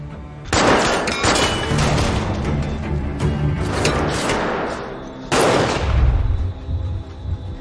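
Rapid gunfire rattles through an action-film shootout in a warehouse, with loud, dense bursts of shots and booms that keep going, stop for a moment, then come back hard.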